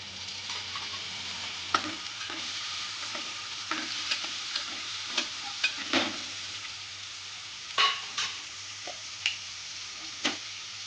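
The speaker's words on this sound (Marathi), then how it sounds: "आता फायनली याच्यामध्ये टाकते मी बोंबील आणि बटाटा." Dried Bombay duck fish and potato go into a pan of frying onion, a steady soft sizzle with scattered scrapes and taps of a stirring spoon throughout.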